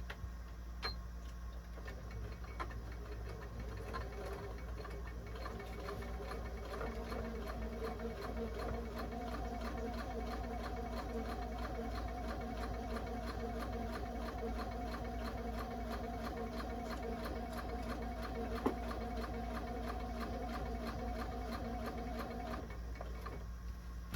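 A sewing machine runs steadily while stitching a folded curtain hem, a fast regular ticking mechanical whir holding for most of the stretch at close range, with no voices.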